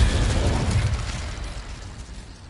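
A fire spell cast in the Hogwarts Legacy video game lets out a loud, rumbling burst that swells at once and fades slowly over a couple of seconds, with no talk over it.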